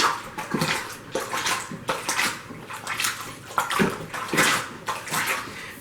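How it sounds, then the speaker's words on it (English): A plunger pumping clothes in water inside a bucket of an improvised budget washer, making rhythmic sloshing, gurgling surges roughly every second, close and alone with no talk. "I'm going to agitate the clothes that I have in here."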